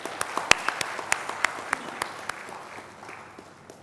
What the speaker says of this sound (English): request you to welcome them also with a big applause